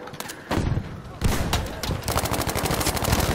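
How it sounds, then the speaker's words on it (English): Rapid video-game gunfire crackles in dense bursts during a killstreak match, with automatic fire rattling continuously and loudly while a player talks over the shooting. "That's where I'm shooting."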